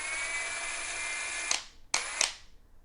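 Ridgid Octane impact driver running at minimum trigger speed and turning a socket, its steady high electric whine loud and close. It then stops, followed by a few sharp clicks and a short second burst of running.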